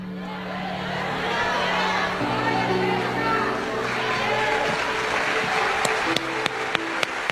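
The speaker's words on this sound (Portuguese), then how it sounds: "Esse aplauso é para o Senhor Jesus, que não desiste de nós e continua investindo na gente." A church congregation applauds during a sermon, a dense, sustained wash of many hands clapping that holds steady throughout, with a few sharper claps near the end.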